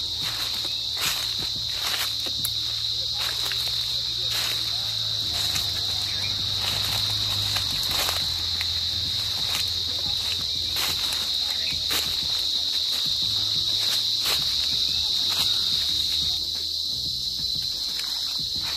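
Cicadas buzz near a cashew tree in sunny Jaffna, Sri Lanka, holding one steady, shrill drone from start to finish, with soft crunching footsteps and rustling underneath.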